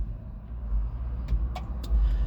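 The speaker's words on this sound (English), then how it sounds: "Sorry about the noise, y'all. This is a busy street." Steady low rumble of busy street traffic, with a car passing close by and brief higher swishes near the end, fairly loud and continuous with no voices.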